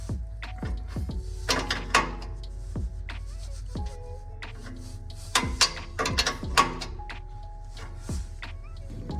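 Ratchet wrench driving an AEM wideband oxygen sensor into a freshly welded exhaust bung under a 1998-2002 Camaro, several bursts of quick clicking with brief pauses between, close and fairly loud with no talk.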